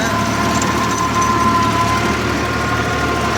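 Tractor engine running steadily in low second gear on a village farm, a continuous loud drone and hum throughout with no breaks.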